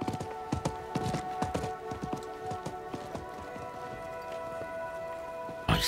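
In the video game Diablo IV, a horse gallops away, rapid rhythmic hoofbeats clattering steadily for several seconds over a faint game ambience before a sharp thump at the end.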